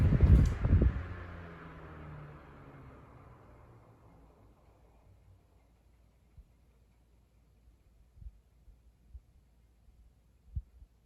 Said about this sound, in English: Alright, now I will give you guys a spin down time.